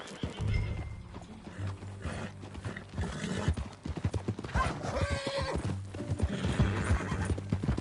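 Hooves clip-clop in a rapid galloping rhythm, with a horse neighing loudly partway through over a busy soundscape from the video game Red Dead.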